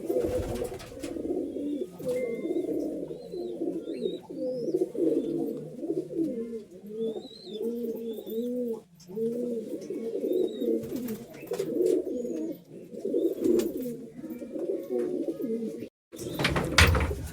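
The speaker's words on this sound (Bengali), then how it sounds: "ফুল মস্তিতে আছে পায়রা।" High-flying pigeons coo in overlapping, throaty rolling calls throughout, close by in their loft, with faint higher chirps and brief rustles in between.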